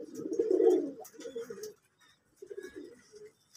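Pigeons coo in a breeding loft. The deep, rolling calls come in two close bursts, the first louder, separated by a short pause.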